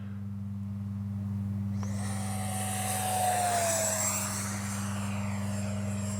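Freewing F-16 70mm RC jet flying low over a runway to land, a high electric ducted-fan whine that swells as it passes close and then falls in pitch, over a steady low hum.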